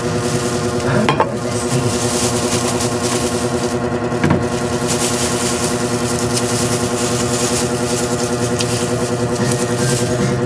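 Onion and garlic sautéing in hot oil for a sardine and miswa dish, a loud steady sizzle with a constant hum beneath and a couple of brief stirring scrapes, no talking.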